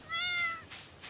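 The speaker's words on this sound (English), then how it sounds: "a cute cat." A cat meows once in the video game Stardew Valley, a short clear rising-and-falling mew that stands alone, followed by faint soft game sounds.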